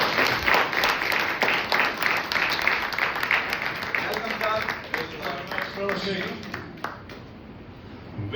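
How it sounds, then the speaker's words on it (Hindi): A church congregation claps loudly during a Good Friday service, a dense, steady burst of applause filling the room that tapers slightly toward the end, with voices mixed in. "एक बार बजा दीजिए ताली जोरदार।"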